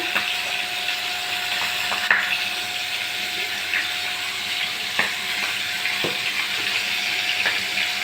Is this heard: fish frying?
yes